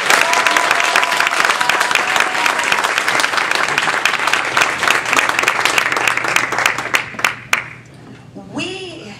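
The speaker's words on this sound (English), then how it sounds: "We may now do our round of applause." An audience at a Toastmasters spring speech contest gives a dense, loud round of applause that thins into scattered claps and stops, followed by a speaking voice.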